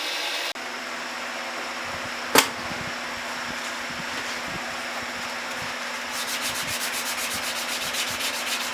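Steady close sanding of a knife grip, a continuous rough rubbing hiss with one sharp knock early on and quicker rhythmic strokes toward the end.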